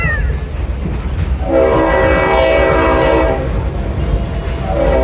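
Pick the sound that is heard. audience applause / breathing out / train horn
train horn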